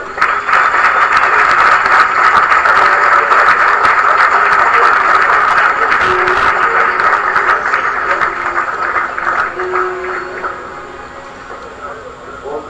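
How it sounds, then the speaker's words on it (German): Sustained applause from an audience at a three-cushion billiards match greets Dutch champion Roy Stolk. The dense clapping stays loud and steady, then gradually thins and fades toward the end. "Ich bitte um einen herzlichen Applaus für Roy Stoll"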